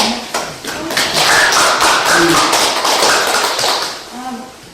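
An audience at a Korean Buddhist lecture on the Jikji claps in a loud, close, steady burst of many hands, with voices talking over it now and then.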